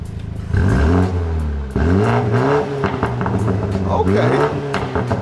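A BMW M3 engine revs hard several times in quick bursts with its exhaust valve open, the loud, throaty exhaust note climbing and falling close by before settling into a rumbling idle.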